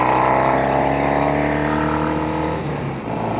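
A Norton Commando Combat 750 motorcycle engine drones steadily while riding, loud and close, with a slight dip in pitch near the end as a gear changes.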